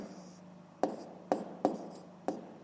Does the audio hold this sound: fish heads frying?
no